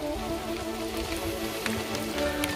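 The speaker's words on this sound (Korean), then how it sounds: "비가 약간 오는데 아주 운치가 있습니다." Light rain falls on a mountain trail, a steady close patter of drops hitting leaves and ground that continues evenly with no voices.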